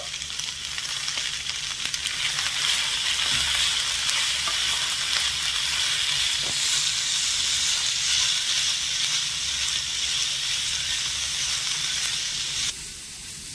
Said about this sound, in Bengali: লবণ আর হলুদটা দিয়ে নেড়ে ছেড়ে একটু ভেজে নেব